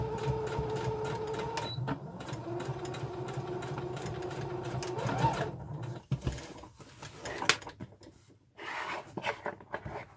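A sewing machine stitches a seam on a corset at 3.5 stitch length, its steady motor whir running for about six seconds before stopping, followed by quieter handling and rustling sounds up close.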